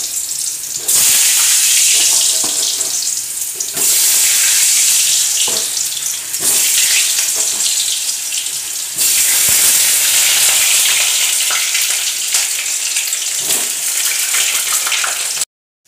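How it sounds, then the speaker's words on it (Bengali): Potatoes frying in mustard oil in a wok over a gas flame give a loud, steady hiss that fills the whole stretch, with short stirring knocks and brief dips between bursts. "আলুটাকে একটু লাল করে ভেজে নেব।"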